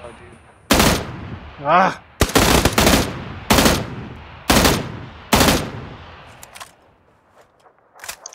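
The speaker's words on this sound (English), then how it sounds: "You guys shooting me." Gunfire in PlayerUnknown's Battlegrounds rings out as a series of loud, sharp shots and short bursts spaced through the clip, with a voice briefly reacting between them.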